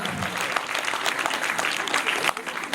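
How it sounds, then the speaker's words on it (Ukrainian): Steady audience applause for a dance performance at a concert, dense and continuous clapping from a crowd throughout, fairly loud and close. "Можливо, Наталя, ваші оплески. Гучніше, гучніше, гучніше"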